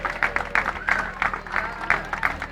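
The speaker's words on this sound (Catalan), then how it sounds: "Un fort aplaudiment a esta xiqueta tan valenta" A crowd applauds at a Valencian human-tower gathering for the brave young girl who climbed as enxaneta. The clapping is steady, with rhythmic swelling bursts and some voices mixed in.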